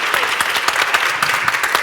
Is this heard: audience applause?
yes